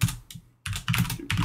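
Vim commands being typed on a computer keyboard: a quick, uneven run of close key clicks with a brief pause in the middle.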